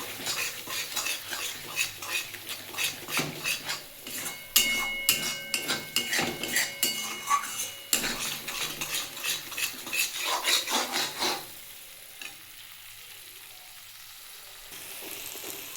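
Spice paste for pomfret curry is stir-fried in oil in a pan, giving a busy run of rapid metal spoon scrapes and clinks over a low sizzle, which stops near the end and leaves only a faint hiss.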